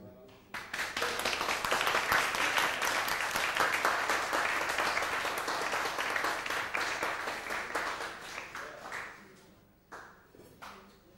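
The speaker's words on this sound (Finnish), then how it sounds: "Aplodit Jonille!" An audience claps for Joni, an artist, in a dense, loud burst of applause that holds steady for several seconds, then thins out to a few scattered claps.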